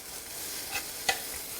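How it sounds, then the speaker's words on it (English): Chopped portobello mushroom stems fry in a pan with a steady soft sizzle, and a spoon scrapes through them in a couple of quick stirring strokes. "And I'll give it a little stir."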